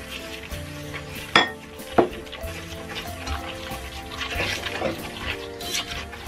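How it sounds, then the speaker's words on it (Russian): A utensil stirs melted margarine and sugar in a pot, giving soft scraping and swishing with two sharp metallic clinks early on and lighter clatters later. "Интенсивно размешиваем, чтобы не прилипало."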